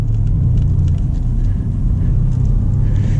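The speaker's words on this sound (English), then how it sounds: "We'll go over some rougher roads," Mercedes C63 AMG Convertible driving over rougher roads in comfort mode, a steady loud low rumble of engine and road noise filling the cabin throughout, with no talk.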